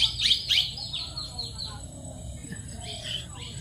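Parrots perched in a tree give sharp, shrill chirps, loudest in a quick cluster at the start, then fainter scattered calls over a low outdoor rumble.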